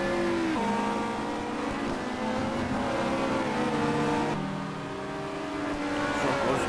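Touring race cars at Monza in the 1990 WTCC race, with Coulthard trying to pass Gary Elf; several engines drone loudly and steadily with shifting pitch as the pack runs close together.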